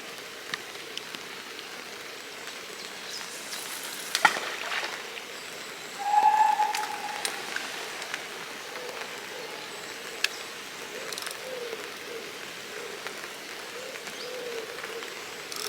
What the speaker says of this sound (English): Rain's just started, so better get my coat on ready.